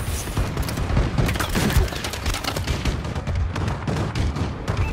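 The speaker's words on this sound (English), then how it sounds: "Enemy bombing run incoming." Dense, continuous barrage of explosions and gunfire from an enemy bombing run in a Call of Duty: Advanced Warfare multiplayer Hardpoint match, loud booms and rattling shots overlapping without pause for the whole stretch.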